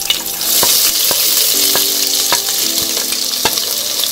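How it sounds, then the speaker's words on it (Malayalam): Chopped onions hit hot oil with cloves and a pinch of fennel for chicken mandi, a steady close sizzle with sharp clicks of a spoon stirring through the pan, no talking. "ഇനി നമുക്ക് ഇതിലേക്ക് അരിഞ്ഞു വെച്ച സവാള ഇട്ട്"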